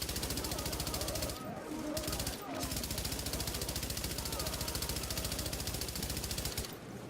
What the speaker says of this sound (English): We are just going to use the Infantry MG5.